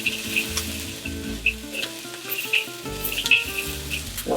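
Peanuts and bell pepper sizzling in hot oil in a wok, an even close crackle with a few sharp squeaky spatters over a low rumbling background.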